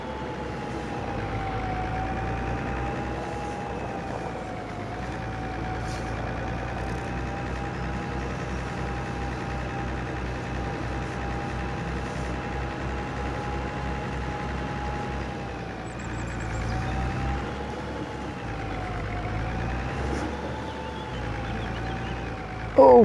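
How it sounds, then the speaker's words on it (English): A tractor engine in the farming game Farming Simulator 25 drives along with a steady, droning low rumble and a faint whine that rises and dips slightly with load, continuous and close, without talk. "It feels like a heavier tractor though."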